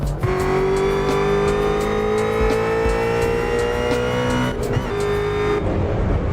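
A 770-horsepower Ford Mustang GT350 in the Assetto Corsa racing game revs hard, its engine note climbing loudly for several seconds before a brief shift and another rising pull.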